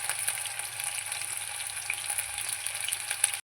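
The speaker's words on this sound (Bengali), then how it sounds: "আলুগুলো একটু ভাজা করে নেব" Potatoes fry in hot mustard oil with a steady, close, continuous sizzle and crackle, no voices over it.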